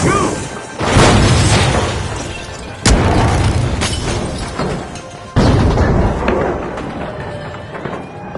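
A goo grenade thrown in The Finals, heard as several loud bursting impacts with splattering crashes that come every few seconds amid busy game noise.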